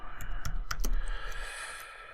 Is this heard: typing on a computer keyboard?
yes